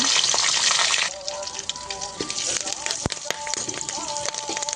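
Curry leaves, coriander and turmeric sauté in a hot pan, first with a bright burst of hissing sizzle and then with quieter crackling and stirring scrapes, while a faint voice sounds in the background.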